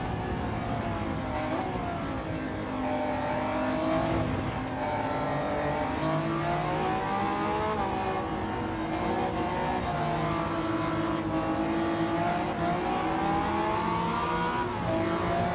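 A Nissan GT-R engine in Gran Turismo 7 revs hard and continuously, its loud tone sweeping up and down through gear changes with occasional tyre squeal.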